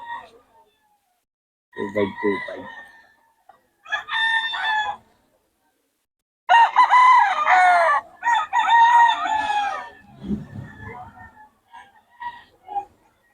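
Chickens at a farm, with a rooster crowing in several loud bursts among hen clucks, while people talk at intervals.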